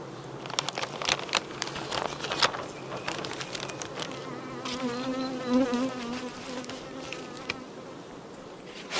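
Honeybees buzz around their hives as a queen is introduced, a dense close swarm hum with individual bees whizzing past the listener and scattered crackling tapping sounds around them.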